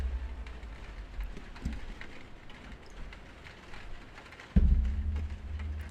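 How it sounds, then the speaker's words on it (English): Rain falls steadily outside as a soft, even hiss. Near the end a low thump brings in a louder rumbling layer. No one speaks. "And it just started raining."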